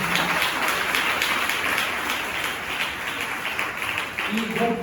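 A church congregation at a Sunday service claps loudly and steadily, a dense wash of applause that fills the room from start to finish.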